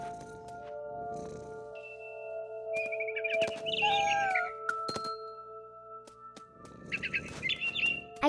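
Birdsong from the video game What Remains of Edith Finch: bright chirps and warbling tweets in short bursts over a steady tonal game backdrop, fairly close and clear with no talking.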